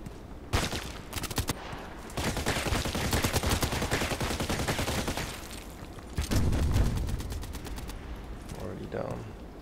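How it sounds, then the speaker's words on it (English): Rapid bursts of machine gun fire in an online shooter game, long rattling strings of shots with brief pauses between volleys, loud and close, while a player's voice talks over parts of the gunfire. "he can make so long shots with that machine gun?"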